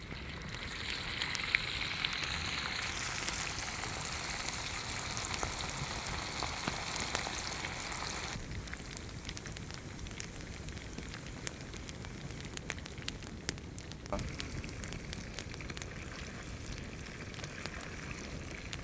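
Marinated chicken pakoda pieces deep frying in oil outdoors, a soft continuous crackling sizzle with scattered pops that quiets slightly partway through.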